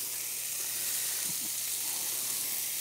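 Green bell pepper sizzling in a hot pan for a vegetable and shrimp quiche, a steady bright hiss with a couple of brief stirring bumps, close and alone.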